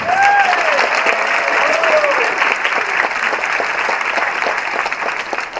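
Warm audience applause for Charlie McLean at a high school academic celebration, a sustained, loud clapping crowd with a few whoops rising over it.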